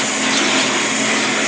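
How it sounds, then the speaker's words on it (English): Vacuum cleaner running close on a dog, a loud continuous whooshing roar with a steady motor hum and no talk. "Go on ahead and vacuum her."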